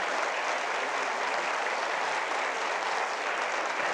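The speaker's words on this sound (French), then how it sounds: "ils seront très sensibles à un petit applaudissement de votre part" Steady, dense audience applause fills a theatre at an even level throughout, with no pauses and no voices rising above it.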